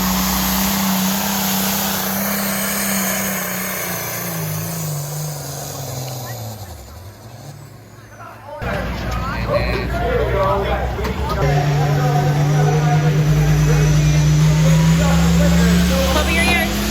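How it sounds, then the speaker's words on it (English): Superstock tractor racing engine at a 2024 pull, a loud sustained drone that dips and then roars back harder, with crowd talk under it. "I'm pretty sure this lady is racing the tractor."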